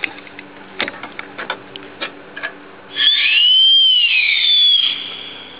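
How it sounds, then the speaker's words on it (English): A whistle on a Doll dual-cylinder, dual-flywheel toy steam engine gives one steady, fairly loud shrill tone that slides slightly in pitch for about two seconds. Before it come light, irregular mechanical ticks and clicks from the running engine. "There's your whistle."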